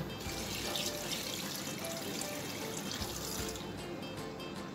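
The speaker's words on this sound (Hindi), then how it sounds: "और अब मैं इसमें पानी शामिल करूँगी।" Water poured into a pot of mutton with thick yogurt while cooking Peshawari namkeen gosht, a steady close splashing and running-water rush filling the whole moment without pause.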